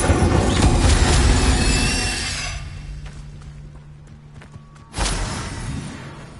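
Incendio fire spell cast in Hogwarts Legacy, a loud whooshing blast of flame that fades out over a couple of seconds, then a second sudden fiery burst erupts and roars on near the end, with no talk.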